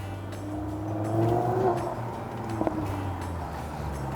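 A Lamborghini engine revs and passes outside at a golf course estate, rising to a louder surge midway and then fading, with a brief sharp knock near the end and some light background sound.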